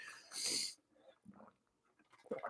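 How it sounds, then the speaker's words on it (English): One sharp, close sneeze bursts out, followed by quiet breathing and faint rustling. "I was trying so hard to not sneeze"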